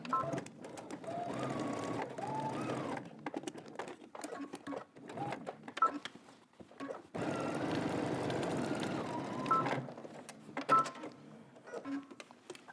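A sewing machine stitches a garment overlay to the neckline for a Simplicity S9893 sew-along, running in two sustained bursts separated by pauses and lighter clicks and handling noises.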